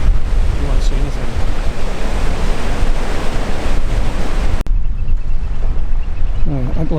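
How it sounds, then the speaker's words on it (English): Waves breaking over rocks by Green Island, a continuous roaring wash of surf with heavy wind buffeting the microphone, loud and close, easing abruptly into a quieter, calmer stretch near the end. "the waves that are breaking over at the moment"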